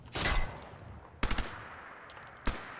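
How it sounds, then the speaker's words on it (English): Gunfire in Fallout 4, with a sniper firing: a sustained burst near the start, then a rapid cluster of sharp shots and one more lone crack toward the end, fairly loud with no talking. "They're sniping me down."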